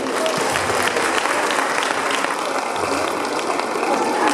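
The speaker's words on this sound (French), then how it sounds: "On peut l'applaudir en attendant." Steady applause from an audience at a hypnosis show during a 2014 talent contest in Wavrin, dense and continuous for the whole stretch, with faint voices underneath.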